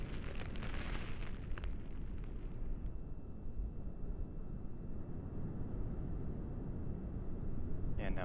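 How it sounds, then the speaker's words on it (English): A Delta IV Medium+ rocket climbs with its solid rocket motors burning, giving a continuous deep crackling roar that stays loud and steady throughout. "Burn profile on the solid rocket motors appears to be within family."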